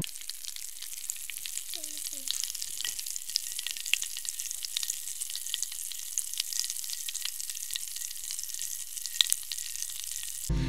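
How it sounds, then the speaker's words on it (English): Faint, steady fizzing and crackling of popping candy on mini cakes, with tiny pops scattered throughout a quiet background. "let you guys hear what the popping sound sounds like at the beginning of the video"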